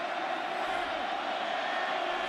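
Dense, steady roar of a packed USC cheering section at a UCLA vs USC college football game, loud and continuous throughout with no clear individual voices.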